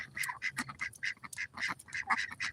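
Pet ducks quack in short raspy bursts, one after another at an irregular pace, fairly quiet and close, with no voices.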